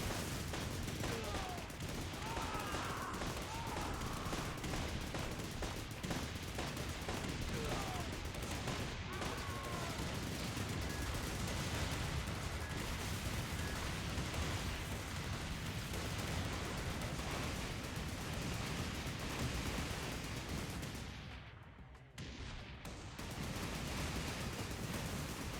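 Rapid, continuous turret gunfire from the mobile war game Thunder Run: War of Clans rattles densely and loudly for most of the stretch, with a brief dip near the end before the firing resumes.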